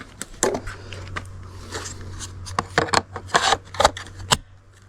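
A battery pack is fitted into a Tatra Garden BCA-20 cordless hedge trimmer, making a series of plastic clicks, rubs and scrapes up close. A steady low hum runs underneath.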